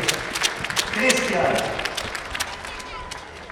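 Applause and cheering from a crowd for the winner of a soccer skill competition, a dense burst of clapping with a voice speaking over it.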